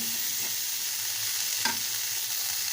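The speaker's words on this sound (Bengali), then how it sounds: "এবার কড়াইয়ের মধ্যে দিয়ে দেবো ডাঁটা দিয়ে এইগুলো ভালোভাবে আমি ভেজে নেব" Neem leaf stalks fry in oil in a wok, making a steady, soft sizzle with faint stirring scrapes and one brief clink, and nobody speaks.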